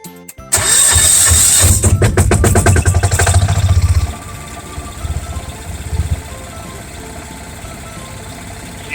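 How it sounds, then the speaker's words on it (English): A small Yanmar diesel engine driving a generator cranks and catches with a loud burst, then drops into a steady, quieter chugging idle that carries on alone. "So this is just a little Yanmar diesel engine."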